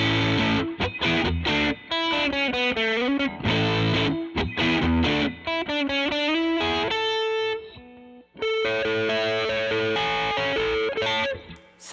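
Electric guitar through a Black Bobbin Boost pedal with the gain turned up, giving loud, saturated chords and riffing with brief gaps, then a sustained ringing chord.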